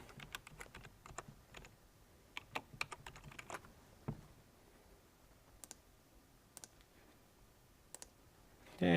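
Sparse, quiet keyboard typing with scattered individual key clicks and short runs, close but faint, in an otherwise quiet room.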